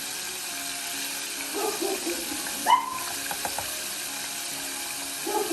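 Items being washed again under a running kitchen tap, a faint steady flow of water with a few soft clinks and splashes partway through.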